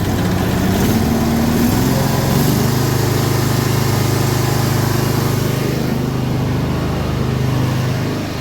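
A carpet cleaning machine's engine runs loud and close, holding a steady droning hum with a slight rise in pitch early on before settling into an even drone throughout.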